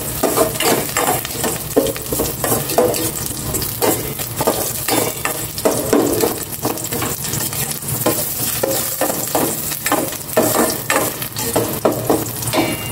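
Garlic sautéing in a pan for chopsuey, a loud, close sizzle broken by repeated rhythmic scrapes and clinks of a spatula against the pan, with no voices.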